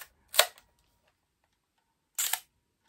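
A 62-year-old camera with a selenium light meter fires its shutter at a slow speed: a sharp opening click, a long pause, then a second closing click, loud and close in an otherwise silent room.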